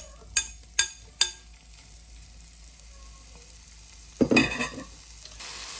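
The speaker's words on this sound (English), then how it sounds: "we are now going to add our shrimp." Pre-cooked shrimp go into a hot pan of melted butter for sweet and sour fried rice: three sharp clinks of utensils, a quiet stretch, then a loud burst of sizzling frying close up as the shrimp hit the pan.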